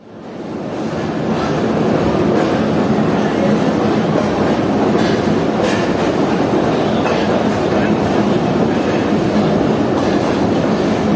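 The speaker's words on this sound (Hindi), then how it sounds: "लोकोमोटिव को डीकपल किया जा रहा है।" Continuous loud rumble and rattling of a Pakistani Jaffer Express train at close range, a steady broadband roar with faint clicks as the locomotive is separated from the coaches.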